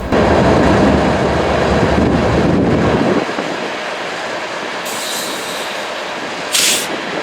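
CSX M308 freight train passing at Old Duvall Road, a loud close rumble of rolling cars that drops to a lighter clatter, with brief high wheel squeals.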